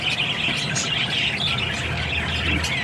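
Pet birds kept in captivity squawk and chirp repeatedly nearby, a dense, loud chorus of harsh calls over a steady background.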